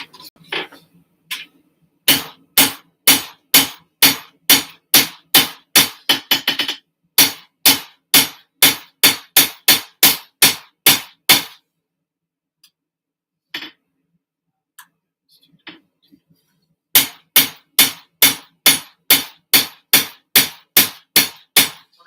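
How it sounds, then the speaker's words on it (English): Rapid, evenly spaced hammer strikes on metal ring out in long bursts while forging a cleaver with a snakeskin pattern, with a pause of near silence midway before the steady pounding resumes. "All right, I'll just hammer one. I'll hammer for a bit."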